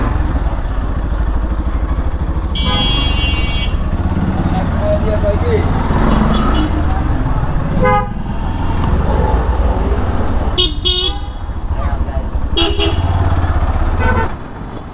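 Busy road traffic on a hot day, with motorbikes and cars passing close and several short horn toots cutting through a constant engine drone.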